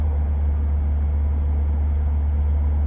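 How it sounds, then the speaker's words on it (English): A Caterham Seven 620S roars while accelerating hard in second gear, a loud, close, continuous low engine rumble with no voices. "Second gear, you put your foot down and the car just takes off."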